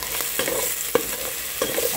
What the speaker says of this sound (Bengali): এবার একটু সাঁতলে নেব